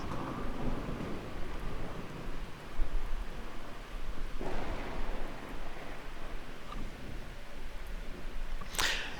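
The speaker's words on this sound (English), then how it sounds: "We were testing the new thunder sounds out." A steady roar of rain and wind in the video game Miscreated, with low rumbling thunder rolling through, ending in a sharp, bright lightning crack.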